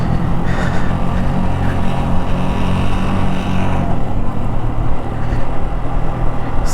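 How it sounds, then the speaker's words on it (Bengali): A motorbike on a muddy, wet road rattles and roars loudly and steadily throughout, its engine drone close and continuous with no talk over it. "পুরা বাইক ঘের ঘের ঘের ঘের ঘের ঘের সাউন্ড করতেছে"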